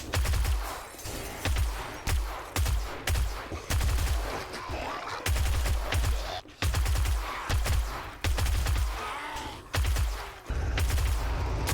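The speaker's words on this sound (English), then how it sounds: "This SMG with a silencer doesn't even wake half of them up." Suppressed SMG fire in 7 Days To Die, rapid muffled bursts repeating in a steady rhythm for the whole stretch, each volley thumping close and loud.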